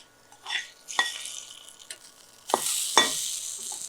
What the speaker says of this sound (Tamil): முந்திரியோடு சேர்த்து திரும்ப அந்த இஞ்சிலாம் நல்லா வறுபடணும்.